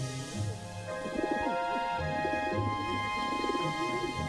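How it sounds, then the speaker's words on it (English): Farm doves coo softly in a low, repeated rhythm of several calls at their new dovecote, set under a bed of steady background music, with no talking. "Thomas saw the new home Percy had delivered for Farmer McColl's doves."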